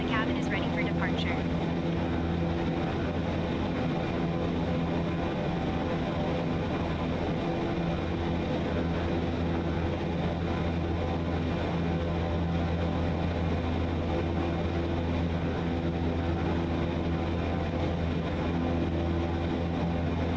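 Airliner jet engines spooling up at takeoff power in a flight simulator game, a steady loud low roar with a constant hum throughout, with talk over it.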